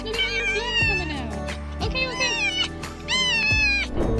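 A lost cat meows repeatedly at a reunion with its owner, three long, loud, drawn-out rising and falling meows close up, separated by short pauses.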